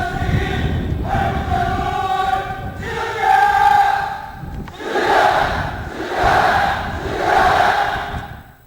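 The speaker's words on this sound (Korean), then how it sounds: "청년 학생들이 토치는 분노와 원수 경멸의 함성이 또다시 집회장을 진감했습니다" A large crowd of young students at a rally roars angry chants in repeated swelling waves, loud and unison, each shout rising and falling with short pauses between.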